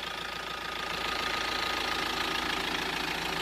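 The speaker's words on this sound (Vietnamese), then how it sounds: "quý vị nghe tiếng máy nổ rất êm ái đúng không?" A Hyundai Santa Fe four-wheel-drive diesel engine idles up close with a steady, even rumble that runs without a break and no talk over it.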